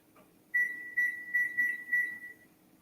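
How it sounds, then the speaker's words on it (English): A kitchen timer gives a series of five or six clear, bright electronic beeps, loud and close, evenly spaced over about two seconds against a quiet room. "I'm going to set my timer for maybe 6 minutes"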